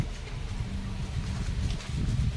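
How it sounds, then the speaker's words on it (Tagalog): Steady wind roars and buffets against the microphone throughout, a constant low rumble with no pauses. "mahangin na naman"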